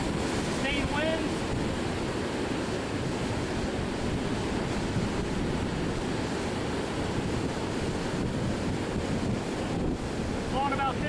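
Hurricane Earl's wind and surf pound Nags Head beach, a steady, loud roar of buffeting gusts on the microphone over crashing waves that never lets up, with a faint voice briefly audible.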